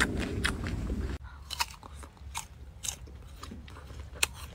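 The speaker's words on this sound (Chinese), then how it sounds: "尝尝这个味儿啊，嗯，非常的香脆甜" Close, crisp bites and crunchy chewing of fresh fruit, a loud first crunch followed by a run of sharp, irregular juicy crunches with quiet pauses between.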